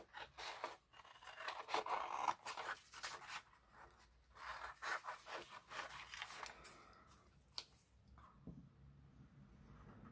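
Scissors snipping through printed paper ephemera, close and quiet, a run of short crisp cuts and rasping strokes with small pauses, ending in a softer rustle of paper being handled.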